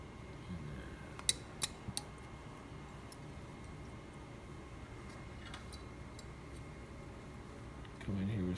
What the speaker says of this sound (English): Come in here with some shitty scissors